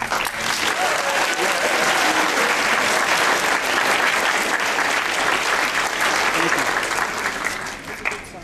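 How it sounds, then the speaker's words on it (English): A full round of applause at a student assembly, dense and sustained clapping from a large crowd, loud and even before tapering off at the very end. "Once again, a round of applause, please, for Joan."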